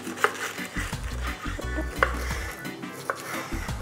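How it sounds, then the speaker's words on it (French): Girouma pumpkin rubbed against a grater in a kitchen, giving a series of rough, rhythmic scraping strokes with small clinks of the tool, close and fairly quiet. "Je pense que le girouma, je vais le râper carrément."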